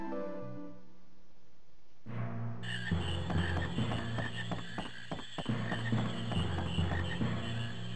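Frogs croaking in Final Fantasy IX, in Lindblum, starting quietly and then filling out into a dense layered chorus with repeated croaks over steady game music.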